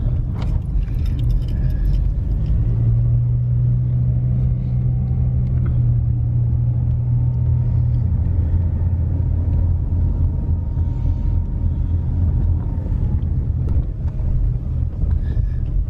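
A car drives slowly through deep snow in an Amish area of Pennsylvania, its engine a steady low rumble with wind buffeting the microphone and faint rattling and jingling throughout.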